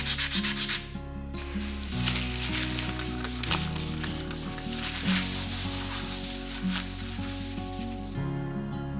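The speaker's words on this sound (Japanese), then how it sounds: "さらに削って平らにしていきます。" Sandpaper rubs back and forth over a polyester putty repair in gouged wooden flooring, producing steady close scratchy strokes that continue without pause under a constant background hum.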